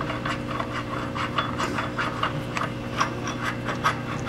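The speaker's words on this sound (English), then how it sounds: "We're going to screw on our arbor." A metal arbor screwed by hand onto a smaller tube expander, giving a steady run of soft rubbing, scraping thread sounds in short repeated strokes, close and fairly quiet, with no talking.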